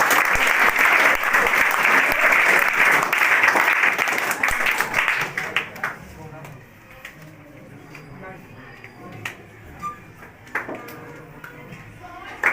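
Students at a Children's Day event at Vidya Dayini Coaching Centre break into loud, sustained applause that fades after about five seconds into scattered claps and quiet room noise.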